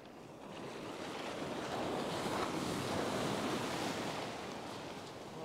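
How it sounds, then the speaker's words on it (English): Ocean waves break and wash steadily onto a sandy beach during surf fishing, a loud continuous roar of surf with wind buffeting the microphone, swelling slightly in the middle and never pausing. "But these waves are nailing me."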